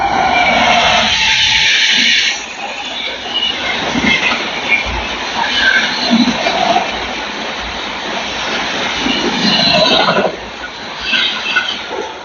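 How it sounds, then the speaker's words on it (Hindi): Howrah Dehradun Upasana superfast train at full speed passing straight through a station, a loud continuous roar of wheels and rushing rail noise that swells and holds close by for the whole stretch, with no talk. "सामने से आ रही है हावड़ा देहरादून उपासना सुपर फास्ट फ्लैट 130"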